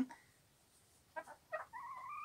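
Black-meat chickens raised for eggs cluck in a few short, close bursts, then one hen gives a longer drawn-out call, with quiet gaps in between.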